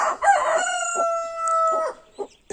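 A nearby chicken lets out a sustained crowing call with choppy clucks just before and after it, ending in a few short, sharp clucks.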